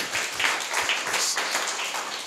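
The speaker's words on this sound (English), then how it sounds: "Clap your hands to God on that." A church congregation claps at a Saturday meeting, a steady wash of many hands with small surges, loud and close with no speech over it.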